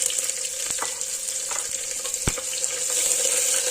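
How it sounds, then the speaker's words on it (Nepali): Onion sizzles in oil in a pressure cooker along with bay leaves and whole spices. The frying hiss is steady and moderately loud, broken by a few sharp clicks and pops. "अब लगाएर चाहिँ एकछिन प्याजलाई भुट्नुपर्छ।"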